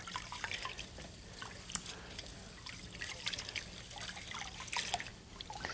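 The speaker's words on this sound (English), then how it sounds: "rub the rice like this between your palms to get out all that grit, and you'll notice that the water goes cloudy." Rice is rinsed in a bowl of water and rubbed between the palms, giving soft close trickles, drips and sloshing swishes in an irregular rhythm, no talking.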